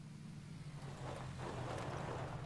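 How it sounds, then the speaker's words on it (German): A car drives up in the battle royale shooter PUBG, heard as a steady low engine drone that swells a little louder toward the end, with no voices. "Da kommt noch ein Auto."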